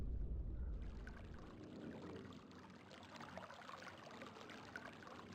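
Flowing water in the video game realMyst, a faint, steady rushing trickle like a gentle stream, continuous and soft with a slightly louder low gush at the start, alone without talk.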